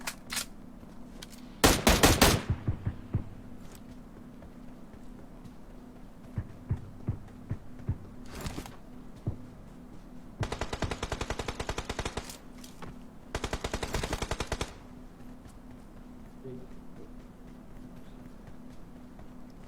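M4 rifle gunfire in a PUBG-style battle royale shooter, several sharp full-auto bursts and scattered single shots, some near and loud, others fainter, with a low steady hum underneath.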